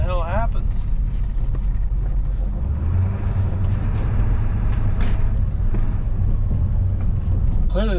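A Ford Powerstroke diesel pickup truck that has had ether sprayed into it pulls away and drives up the road. Its engine note climbs to a steady low rumble, loud and close, with a person's voice faintly in the background.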